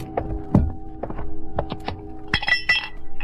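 Coins or small objects clink and rattle in a beggar's tin cup holding a stack of pencils, staged as a radio drama effect: a run of sharp metallic chinks and dull thunks, close and irregular, with no voices.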